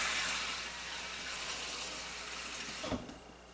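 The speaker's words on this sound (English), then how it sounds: "I'm going to put 1/2 cup of water in there" Half a cup of water pours into a bowl while spelt bread dough is being prepared, a soft steady trickle fading out, ending in a brief splashy thump near the end.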